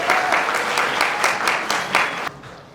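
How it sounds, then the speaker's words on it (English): Dense audience applause at an awards ceremony in Birmingham, loud steady clapping with a few sharp accents that cuts off abruptly near the end into room quiet. "A big round of applause for potential Dr."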